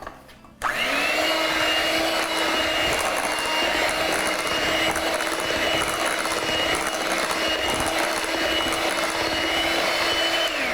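An electric mixer blends cake batter with coconut, starting abruptly and then running as a steady, loud whirring drone that holds until the end with no talk.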